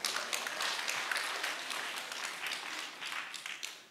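A church seminar audience applauds continuously, dense overlapping claps filling the room at a steady level before tapering off at the end.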